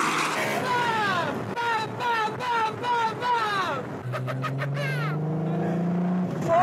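A 900 hp tuned VW Golf 2 accelerates hard while racing a Porsche, its engine rising in repeated climbing pitch sweeps through gear changes, loud and close beneath a narrator talking throughout.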